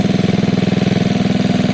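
A Gilera DNA 125cc motorcycle engine runs steadily at raised revs, a loud, even, rapid pulsing throb held close up without a break, no voices over it.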